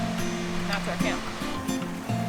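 A river flows across a campsite crossing in a field of wildflowers, its steady rushing and gurgling water running beneath a voice and other tonal sounds.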